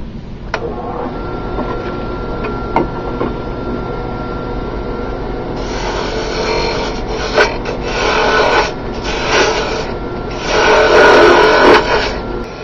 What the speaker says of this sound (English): So I'm going to use a spindle gouge. We'll start kind of shaping this out and see how it looks.